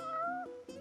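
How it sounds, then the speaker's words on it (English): A cat meows in the video game Final Fantasy 15: one drawn-out, rising and falling meow, then a brief pause and a shorter second call, close and clear with no talking. "You're one spoiled cat."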